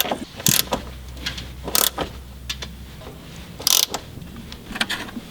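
Strut nuts on a Ford Fiesta ST front suspension are tightened with a ratchet, giving short, sharp metallic clicking bursts at irregular intervals over a low hum, close and alone.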